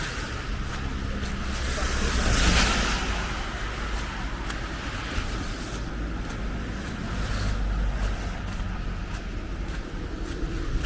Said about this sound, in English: The water sprayed up.